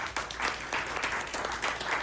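Audience applause at a women's conference fills the whole short moment, a dense steady patter of many hands clapping in a large room at moderate distance.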